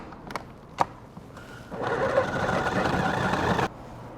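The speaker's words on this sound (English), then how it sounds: "we're gonna be doing this working in batches here because we don't wanna overload our food processor." A food processor grinds beef brisket in a batch, its steady buzzing whir starting about midway after a few clicks and running for around two seconds before cutting off abruptly, close and loud with no speech.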